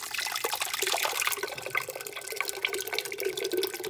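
Canned tomatoes pour in a steady liquid stream into a pot of Sunday gravy sauce, a continuous close splashing and glugging with no talk over it.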